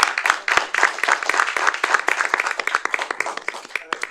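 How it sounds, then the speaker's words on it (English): Applause at a city council meeting for Ms. Fox, a dense, steady burst of many hands clapping close by, fading slightly toward the end. "let's give you a round of applause"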